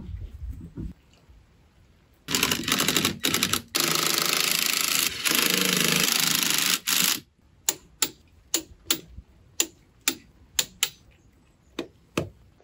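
Wheel spacer bolts on a Fiesta ST150 front hub are run up with a power tool in a loud buzzing burst, then given a series of sharp, evenly spaced ratcheting clicks, close and clear with no voices.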